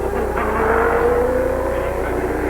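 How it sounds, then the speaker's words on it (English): A 1993 Formula 1 car, Damon Hill's, powers away at Interlagos with traction control cutting cylinders to curb wheel spin, a loud, steady, buzzing engine tone rising slightly in pitch under faint crowd and commentary ambience. "the traction control there on Hill's car as he powers away, controlling the wheel spin"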